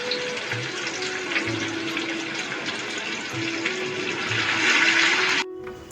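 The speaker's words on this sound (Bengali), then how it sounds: "দিয়ে এর মধ্যে একটু সামান্য নুন ছড়িয়ে দেব, দিয়ে আলুগুলো ভেজে নেব।" Salted potatoes frying in oil in a pan, a dense continuous hiss with bubbling surges, growing slightly louder toward the end before cutting off abruptly, close and with no voices.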